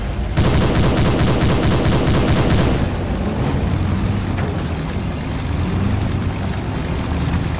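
Sustained bursts of rapid gunfire crackle loudly in a Hidden & Dangerous II firefight at an airport in North Africa, dense for the first few seconds and then thinning into scattered shots over a low droning rumble.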